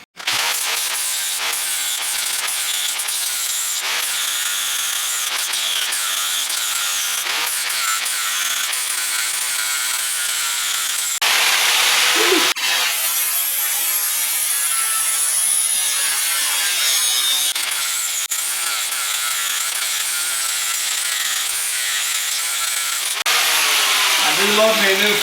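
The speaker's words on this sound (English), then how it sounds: "I got plenty of flap disc, so I guess that's what I'll use to clean these up with" Flap disc on an angle grinder cleaning up leaf spring pads for a Bronco II, a continuous harsh grinding roar close up that shifts in pitch and texture as the disc bears on the metal, steady throughout.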